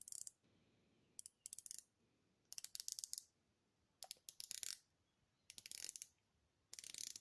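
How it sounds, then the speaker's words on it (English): Bezel of an MMI Turret GMT watch turned in short bursts of crisp ratcheting clicks, close and alone with quiet pauses between turns. "The bezel action is nice."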